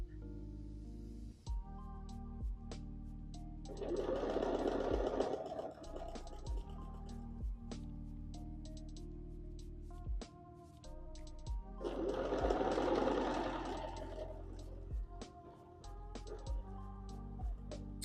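A sewing machine stitches quilt pieces for a quilted scarecrow in two steady bursts of fast, even whirring, separated by a quieter pause, while soft clicks tick through the background.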